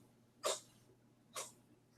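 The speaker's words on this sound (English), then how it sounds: "The cat's in here sneezing." A cat sneezing indoors: two short, sharp bursts about a second apart, close and fairly quiet, with a low steady hum behind and no talking.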